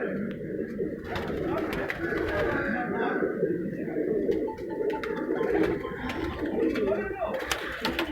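Loha breed pigeons coo repeatedly in soft, low, throaty bursts close by, with someone talking over them and faint rustling and clicking around the loft.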